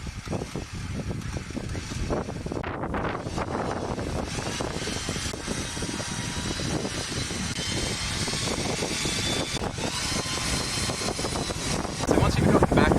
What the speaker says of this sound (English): we're now just going to winch up slowly, and using our glove we're going to come into the drum in a nice,